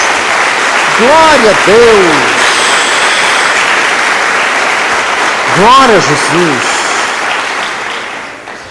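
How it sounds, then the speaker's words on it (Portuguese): A church congregation gives loud, sustained applause during a sermon while a preacher's voice rings out over the clapping, shouting praise twice. "Dá uma salva de palmas a Jesus."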